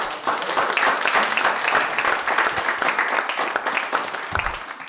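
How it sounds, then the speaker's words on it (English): A demo day audience gives a sustained round of applause, many hands clapping densely and evenly, with a brief low thump near the end. "can I get one more round of applause for all these?"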